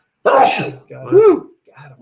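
A person lets out a loud, close sneeze, followed by a second explosive burst and a short, quieter vocal sound.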